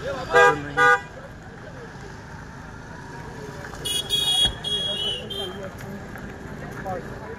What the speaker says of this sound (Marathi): आता सकाळचे 9:15 झालेत आणि गाड्यांची गर्दी पहा